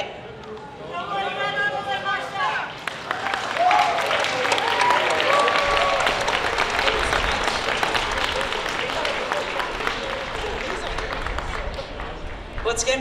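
Audience applause at an outdoor festival main stage, a Japanese festival in Tucson, swelling into steady, dense clapping from a large crowd that holds for several seconds, with an announcer's voice heard briefly at the start.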